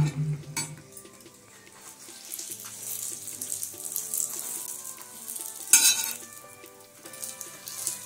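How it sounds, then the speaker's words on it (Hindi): A paratha frying in refined oil on a hot pan gives a steady, moderate sizzle throughout, with a few brief clinks and scrapes from the pan. "अब सेक लेंगे, पहले पराठा सेक लेंगे"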